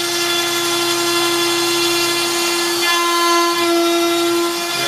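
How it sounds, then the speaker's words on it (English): An X-Carve CNC router cuts plywood, giving off a loud, steady high-pitched whine with a constant spindle tone and a slight shift in load partway through. "I'm cutting in plywood, which makes a bit of an extra mess anyway."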